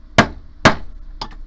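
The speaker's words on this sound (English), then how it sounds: "I only did 2 blows with my hammer, and this is what happens." Two sharp metal hammer blows strike a steel stamp into a sterling silver pendant, close and ringing, followed by a lighter double tap.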